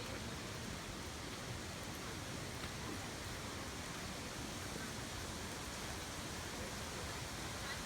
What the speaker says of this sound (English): The Grand Canyon has waterfalls everywhere after the heavy rain.